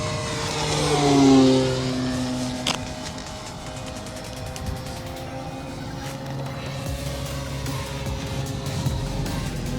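An FMS Pitts 1400mm RC plane flies past in knife edge, its motor whine rising and falling in pitch as it sweeps close by, loudest early on, then settling into a steady, more distant drone.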